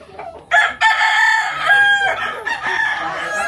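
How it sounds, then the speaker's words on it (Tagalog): A rooster crows loudly and close among a yard full of chickens, two long crows with clucking in between, on a rural countryside property. "Ang dami niyang manok"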